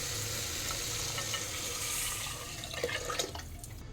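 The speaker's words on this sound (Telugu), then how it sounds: "చింతపండు రసం పడుతుంది" Tamarind juice pours into a hot pan of frying seasoning, a steady broad hiss and sizzle that holds evenly, then dips and breaks into bubbling crackles near the end, close by with no talking.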